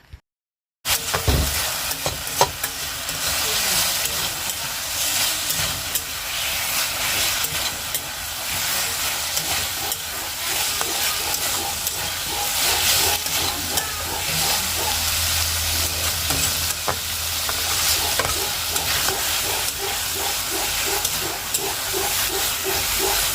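Fish curry bubbling and sizzling steadily in a pot as pieces of fish go in, a dense continuous hiss with soft popping, loud and close after a brief silent start.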